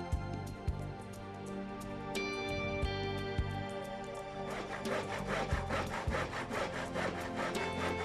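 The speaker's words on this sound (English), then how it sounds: "Having sawn it off, you're ready to measure the top." A hand saw cuts through a wooden stair base rail with a few slow starting strokes, then settles into quicker, steady rhythmic rasping, close and clear.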